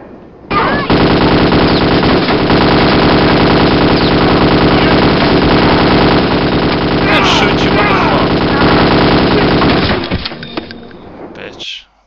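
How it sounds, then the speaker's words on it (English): Automatic gunfire from the shooter game Kingpin: Life of Crime on hard difficulty, a loud, relentless rapid-fire burst hammering for about nine seconds before cutting off abruptly. "Why are you shooting me?"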